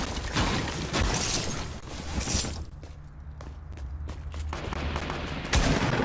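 Gunfire from a Fortnite minigun rattles in dense bursts, loud at first, then easing into scattered shots before a heavy blast returns at the end.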